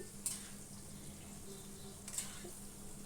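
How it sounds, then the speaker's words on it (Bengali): Chunks of pumpkin and potato being stirred in a pan of oil produce a faint, soft sizzle with low background hum and a couple of brief clinks of a utensil, quiet and without talk. "কুমড়োগুলো আলুগুলো একটু আবার তেলের সাথে একটু নাড়াচাড়া করে একটু হালকা ভাজা ভাজা করে নিলাম"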